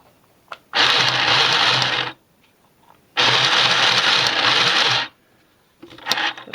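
Toy Totally Me sewing machine running each time its foot pedal is pressed: two loud steady whirring bursts of a second or two separated by silence, then a third burst starting at the end.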